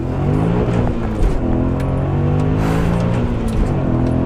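A supercharged E39 BMW M5 revs hard as it pulls away, its loud, steady engine roar filling the whole stretch with a faint tire scrub over it, and no one speaking.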